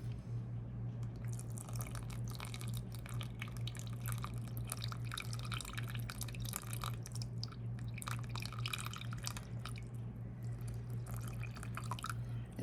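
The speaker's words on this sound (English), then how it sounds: "Okay, that's too much water. I got a little happy pouring that" Water is poured into casting powder for candle pots, a close, continuous trickling and splashing with a low steady hum underneath.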